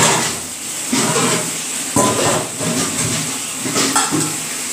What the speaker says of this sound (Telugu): ఇప్పుడు ఆ తాలింపు అంతా కూడా దాంట్లో వేసేస్తున్నాను